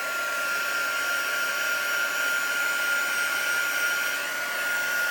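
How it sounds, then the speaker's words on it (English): A heat tool for heat embossing in papercraft blows hot air in a steady, loud, continuous whine and rush close by, unbroken throughout with no talking. "what you also need is a heat tool, and what I tend to do is just warm it up a little bit before I start heat embossing"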